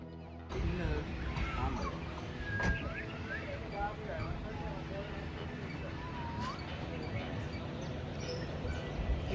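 Birds call at Hambantota Birds Park, with clucking fowl and scattered chirps and whistles over a steady outdoor background while people talk nearby.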